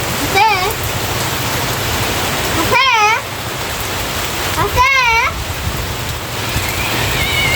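Heavy rain pours down in a village, a loud, steady broadband hiss throughout, with a few brief wavering whistle-like tones rising above it at intervals.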